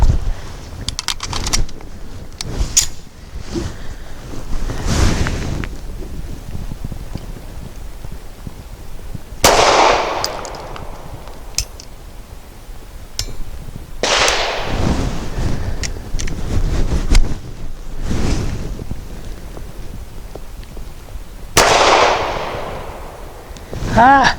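A Gill Arms GPR 9M fires Hornady Steel Match 125-grain lacquered steel-case ammunition outdoors: several sharp, loud shots spaced seconds apart, each with a ringing decay, amid wind noise and smaller clicks.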